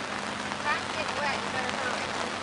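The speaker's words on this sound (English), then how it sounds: "The rain is pouring down now." Heavy rain pours down outdoors at a bass fishing tournament weigh-in, a dense continuous hiss close by, with faint voices in the background.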